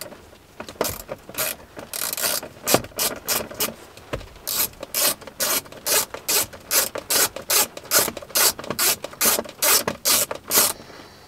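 Ratchet with a 10 mm socket and extension working a bolt on a Subaru STI, giving rapid bursts of sharp clicking pawl ticks in quick rhythmic runs, close and clear, with no talking.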